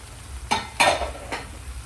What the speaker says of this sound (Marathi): थोडा गॅस मोठा करून परता आणि 2 मिनिटं असंच ठेवल्यावर हा पिझ्झा टॉपिंग झाला